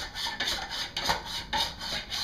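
Potatoes sliced on a mandoline for homemade chips, a steady series of raspy scraping strokes roughly every half second, close and moderately quiet, with no talking.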